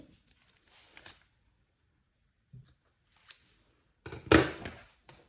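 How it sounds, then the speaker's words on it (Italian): Scissors snip through yarn at the side of a crocheted bag, a few faint soft clicks followed by one louder close cut, with quiet gaps between. "Arrivata al laterale della borsa andiamo a tagliare il filo"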